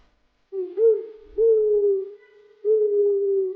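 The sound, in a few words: owl hooting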